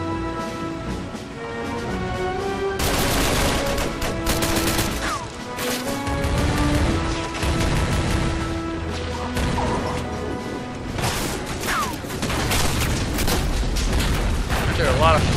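Heavy gunfire and repeated explosions in the Army Men of War game during a city defence battle, with loud booming blasts and rattling bursts in dense, overlapping waves while someone talks excitedly over them.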